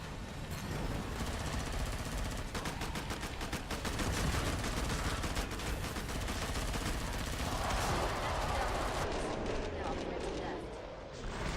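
Sustained machine gun fire in the video game Killing Floor 2, a fast rattling stream of shots running for several seconds with chaotic crashes mixed in, loud and dense, with someone talking over it.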